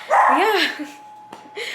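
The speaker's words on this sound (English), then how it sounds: "Sorry the dog is barking." A big female dog barks and yelps indoors at home during party preparations, a couple of loud, close, whining barks with a short gap between them and some vocal sounds around them.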